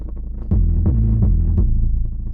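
Deep synth bass run through a LØW filter with its high fizzle boosted, pulsing in a few throbbing swells with a buzzy rattling top, loud and alone.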